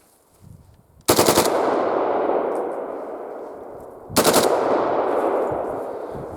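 AKM rifle, a modernised AK-47, firing blanks on full auto in two loud, rapid bursts of shots, each followed by a long echoing tail, with quiet handling noise before the first burst.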